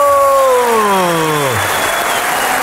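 Audience applause fills a hall at an anniversary stand-up comedy show, steady and dense throughout, with a voice sliding downward in pitch and dropping away over the clapping early on.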